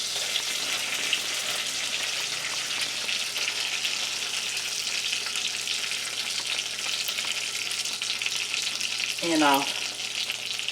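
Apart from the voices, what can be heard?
butter and brown sugar sizzling in a pan for caramel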